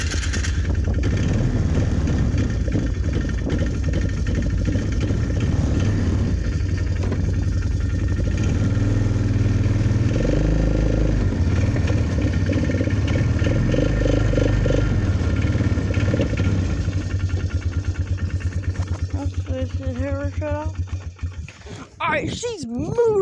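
A four-wheeler's engine runs steadily and close throughout as it reverses, a low rumbling idle that roughens near the end, with a voice talking over it.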